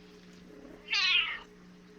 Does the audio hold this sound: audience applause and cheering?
no